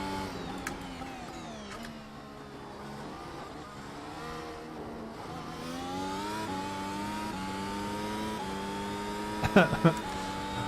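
A Mercedes-AMG F1 car's engine in the iRacing sim whines through rising and falling gear sweeps, with a few sharp clicks near the end, while someone talks quietly underneath.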